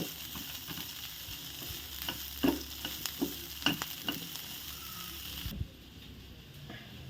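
Broad beans fry in a little oil in a nonstick pan, a steady sizzle broken by several sharp stirring scrapes and taps, until the sound drops away abruptly near the end.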